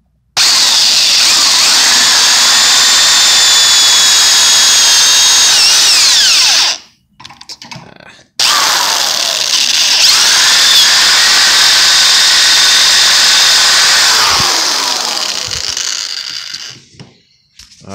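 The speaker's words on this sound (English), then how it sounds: "So we're gonna drill this straight down." A corded power drill bores straight down through part of an Exmark zero-turn mower striping kit to fit a screw, whining loudly and steadily in two long bursts separated by a brief stop.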